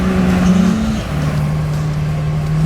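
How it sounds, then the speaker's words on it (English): 1967 Pontiac Firebird restomod with a 461ci V8, loud and close, droning steadily with a low engine note that dips briefly and then settles into a sustained pull, with no talk. "once you hear that motor pull up"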